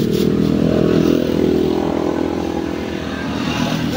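A motorcycle engine drones loudly and close by, its steady rumble easing slightly as it passes.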